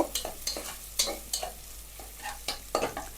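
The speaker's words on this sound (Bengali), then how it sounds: "তো এখন দিব আমি গার্লিক গার্লিক দেওয়ার পরে এটাকে এখন আমি সতে করতে থাকব" Garlic being sautéed in a little oil, heard as a rhythmic run of sharp spoon-and-pan scrapes and taps about every half second over a faint, low sizzle.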